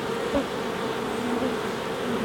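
Honeybees drone steadily around a hive during an October hive check on a fine day, a continuous close buzzing hum with no talking.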